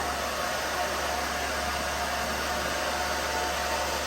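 A hair dryer blows steadily and loudly on freshly cut curly hair in a pixie style, a constant close whoosh with no pauses.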